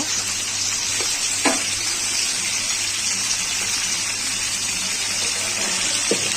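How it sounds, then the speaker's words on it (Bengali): Potatoes and pointed gourd fry in hot oil with cumin seeds, a steady close sizzle and crackle throughout, broken by a few soft stirring knocks. "দেখো, এইভাবে আলু পটলটাকে ভেজে নেব"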